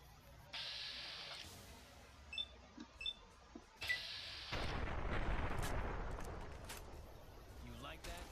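Gunfire in Fallout: New Vegas comes as a few short sharp shots followed by a loud sustained blast and rumble, with quiet talking under the game sounds.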